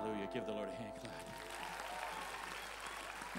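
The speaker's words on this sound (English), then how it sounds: "Give the Lord a hand clap." Church congregation clapping hands in praise during a worship service, a steady crowd of claps joined by loud voices and cheering, with musical tones early on.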